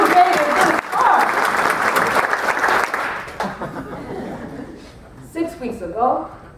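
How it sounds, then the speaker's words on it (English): An evening speech-contest audience breaks into loud, sustained applause, which fades out into scattered chuckles and laughter. "Give yourselves a round of applause."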